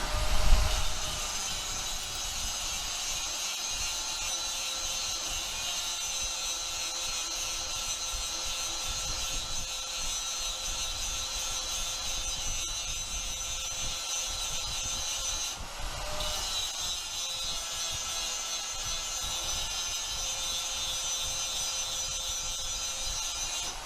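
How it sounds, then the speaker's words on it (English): An angle grinder shapes the weld on a cracked axe head, giving a loud, continuous high whine with rough grinding throughout and a brief dip in tone about two-thirds through. "Then I use an angle grinder to shape the weld to the head."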